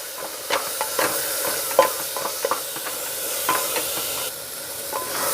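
Garam masala spices frying in a pan for a chole curry while a spoon stirs them, giving a steady sizzle broken by repeated scraping and clinking strokes, close up and with no voices.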